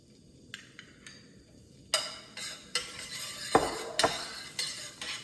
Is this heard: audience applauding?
no